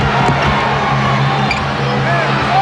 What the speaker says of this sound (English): Hear the reaction from the crowd here at the Summit.